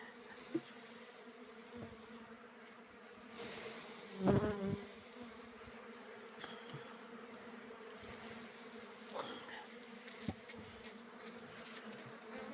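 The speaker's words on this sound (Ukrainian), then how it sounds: "Трясаю цю бджолу прямо під підрамочний простір." A steady, low buzzing of many honey bees in a winter hive being shaken into the space under the frames fills the whole stretch, with a brief louder swell of buzzing near the middle and a few soft knocks.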